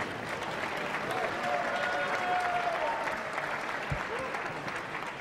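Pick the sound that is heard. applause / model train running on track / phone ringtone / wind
applause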